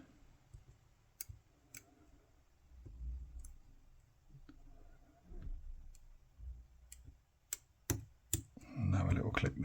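Mul-T-Lock C16 padlock being picked with custom dimple picks, faint sparse metallic clicks and ticks close up over quiet handling noise, ending in a louder rustling clatter, with someone speaking quietly at times.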